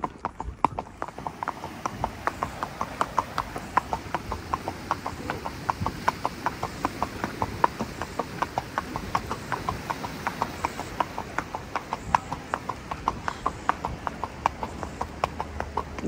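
Steady, rhythmic clip-clop of a horse's hooves on a long solo night ride beside a canal, close and even-paced, with a constant background hiss of the night air.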